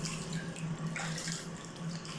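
Steady running water from a shower spraying while a kitten is bathed, a continuous close splashing hiss with no talking.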